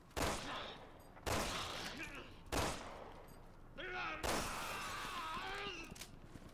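Bursts of gunfire from Resident Evil 6 repeat in loud volleys about a second apart, mixed with shattering impacts and a voice calling out between shots.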